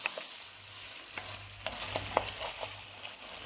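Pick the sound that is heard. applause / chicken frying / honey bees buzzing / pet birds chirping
chicken frying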